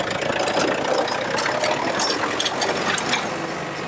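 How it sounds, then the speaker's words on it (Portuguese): Wheeled tractor engine running steadily while pulling a disc plough to build terraces on farmland in Santa Catarina, a loud continuous mid-pitched drone with rattling machinery noise and no speech. "O trator de pneus com arado de disco é uma das possibilidades que o produtor tem de construir os terraços"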